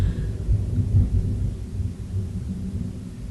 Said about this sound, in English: We need the rain.